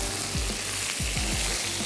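Rice boiling in a pot for Hyderabadi malai qorma, a steady close bubbling and sizzling hiss with soft periodic stirring scrapes, no talking.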